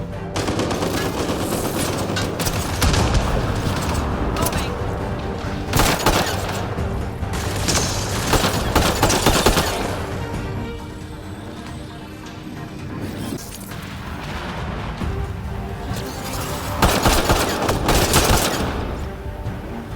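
Gunfire in the video game Mass Effect: loud, sustained bursts of automatic weapon fire with heavy impacts and crashes, mixed with in-game voices and combat noise throughout.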